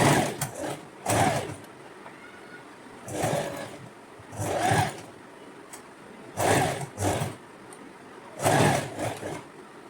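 A sewing machine runs a loose, rough seam on a neckline frill in five short bursts of close, steady mechanical whirring, with quiet pauses between them.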